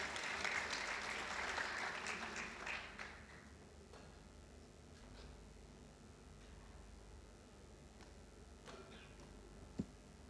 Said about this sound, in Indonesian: Kita berikan tepuk tangan untuk Ibu Yuliana Agung.